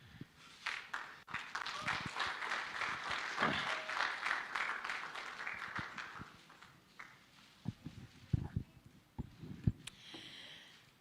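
Audience applause at a lively stage event, with broadband clapping building early and holding for several seconds before fading into scattered claps and talk near the end.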